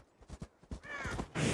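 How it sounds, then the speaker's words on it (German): Ravens in Assassin's Creed Valhalla give a few close, harsh caws in quick succession, ending in a louder, noisier burst. "Aber Raben."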